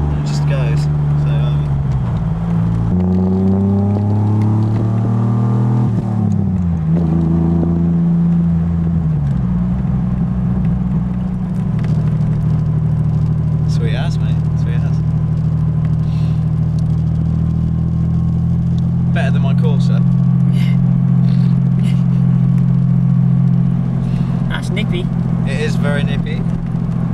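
A DeLorean DMC-12 with a V6 engine, stage 1 modification and free flow exhaust drives along, its engine rising and falling through gear changes before settling into a steady drone, with people talking in the cabin over it.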